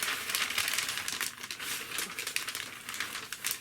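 Sauna foil vapor barrier folded by hand, giving a steady, close-up crinkling and crackling that runs continuously with small bursts throughout.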